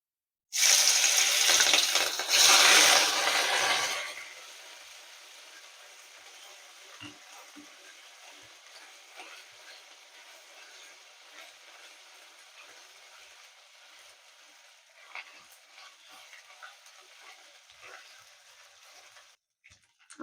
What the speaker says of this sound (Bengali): আদা কাঁচা লঙ্কা কুচিটা আগে ভেজে নেব।